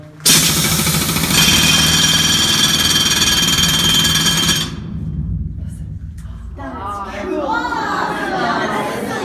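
A mining drill in a Dahlonega, Georgia gold mine runs at full capacity as a loud, steady mechanical roar and clatter, then cuts out abruptly; afterward voices talk over a quieter background.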